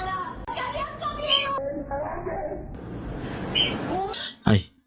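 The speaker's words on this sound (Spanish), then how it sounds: "mi pájaro gritando" A pet bird screeches in bursts, with sharp high cries near the end, over a woman's continuous chatter indoors.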